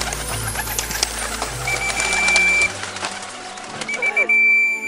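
Pigeons coo at a bird park in Changsha, mixed with people talking nearby and a thin, steady whistle-like tone.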